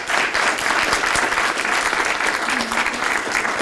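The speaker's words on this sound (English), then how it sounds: "Could we give one more round of applause for all of our panelists?" Audience applause after a panel discussion at an event on neocolonialism, a dense, steady clapping from a room full of people that holds at an even, loud level throughout.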